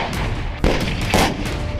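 Rockets and artillery fire in war footage: a continuous loud roar of launches with heavy thuds, two sharp booming blasts rising over the sustained rumble.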